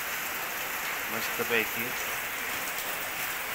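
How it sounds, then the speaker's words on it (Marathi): Light drizzling monsoon rain in Kerala gives a steady soft patter throughout, with someone speaking briefly over it. "केरळमध्ये बघा, रिमझिम रिमझिम पाऊस पुन्हा चालू झाला"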